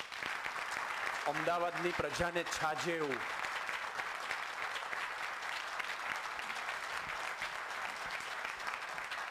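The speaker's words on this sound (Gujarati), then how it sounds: "અનહદ ને પુષ્કળ તાળીઓ." An audience applauds a speaker at a creativity talk in Gujarati, the clapping dense and continuous for the whole stretch, while a voice speaks briefly over it near the start.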